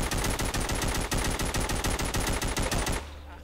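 Rapid automatic AK rifle fire in the zombie game Walking Zombie 2, a loud, evenly spaced burst of about twenty-five close shots lasting three seconds, then cutting off into a quiet hum.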